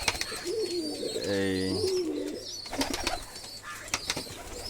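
A Giribaz cock pigeon courts a Koka hen on a farm, cooing low and throaty close by. A rolling, pulsing coo runs through the middle while someone talks over the birds.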